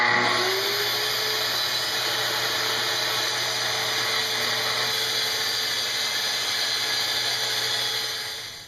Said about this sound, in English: I'm going to use my track saw to do that.